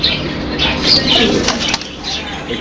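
A brooding pigeon hen, lifted off her eggs in a loft, beats her wings in several quick flapping bursts close to the microphone, with faint cooing.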